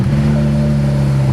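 A BMW 335i with the N54 engine idles steadily after new spark plugs and coils, a loud, close, smooth hum with no audible misfire and no talking.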